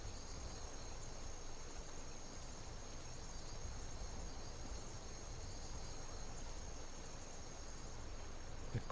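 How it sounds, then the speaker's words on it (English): A faint, steady chorus of crickets chirps at night in the Skyrim video game, with a soft, constant high-pitched trill over a quiet hiss. "The chorus of crickets sings as seeds fall from the sky"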